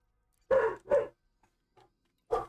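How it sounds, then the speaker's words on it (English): Dogs bark indoors, with two quick loud barks close together, a faint yip, and then another bark, sharp and nearby with silence between. "Oh, my dogs are being noisy."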